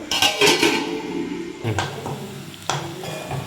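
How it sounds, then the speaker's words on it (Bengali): Rice being washed in a metal pot for chicken biryani, with clinking knocks of pot and utensil and sloshing between them, close and fairly loud. "এবার চালটা ধোবো"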